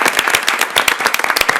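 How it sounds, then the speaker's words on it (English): A board of education meeting audience claps for a newly introduced executive director, a loud, close burst of crisp, separate handclaps with an uneven rhythm. "If we could show her live our applause."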